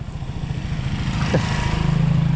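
A motorcycle on a morning road, its engine putting out a steady, pulsing drone close by throughout.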